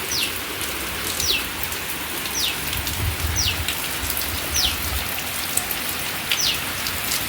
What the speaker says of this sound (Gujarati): વરસાદ પડી રહ્યો છે અવાજ પણ સંભળાતો છે એકદમ ધોધમાર વરસાદ આવી રહ્યો છે